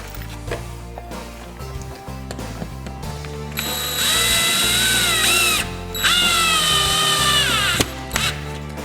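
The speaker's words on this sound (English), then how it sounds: "shove it in, and we're going to screw it on." A power drill drives screws to fix a piece of drywall sheetrock in place during a repair, with two long whirring bursts after some shorter mechanical clicks and ratcheting.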